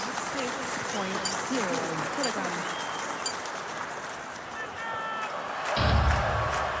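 A crowd at a men's weightlifting Olympic final in the London 2012 video game applauds in a steady wash that swells near the end, while a commentator talks over it.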